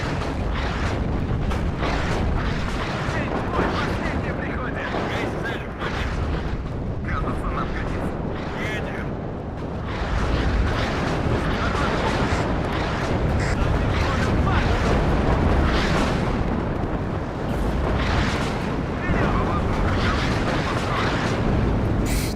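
Artillery barrages in the real-time strategy game WARNO, a continuous rumbling wall of heavy booms and explosions rolling on without pause, loud and dense throughout.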